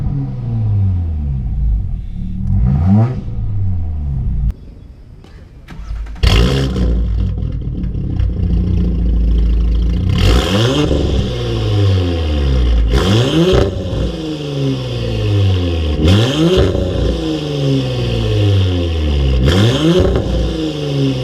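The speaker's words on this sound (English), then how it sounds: "that's how the car sounds, and it's a turbocharged car, so you can listen to the turbo whistle very easily with this exhaust" A straight-piped turbocharged Audi B9 S5 revs hard in dynamic mode, its loud exhaust rising and falling in repeated throttle blips with a turbo whistle audible over the rumble, heard up close with no talking.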